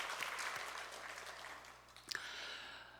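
Faint applause from a church congregation during a Sunday service, a soft wash of clapping that fades slightly, with a couple of sharper claps near the end.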